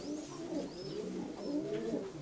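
A pair of pigeons coos nearby in soft, throaty, rolling phrases that repeat without pause over a faint background.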